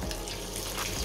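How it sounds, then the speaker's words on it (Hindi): Water runs steadily into a pot of rice being readied for Karachi-style biryani, a continuous close splashing pour with no voices over it. "अब हम इसमें डालेंगे पानी"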